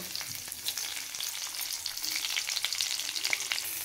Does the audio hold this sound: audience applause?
no